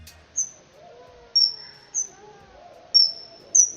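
A bat's calls from a night forest recording, slowed down about three times to lower their pitch, come as five short, sharp chirps spaced irregularly over a faint low background murmur.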